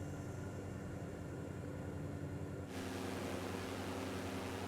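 Steady aircraft engine drone during a landing approach in a flight simulator game, a smooth continuous roar that swells abruptly partway through as power is added.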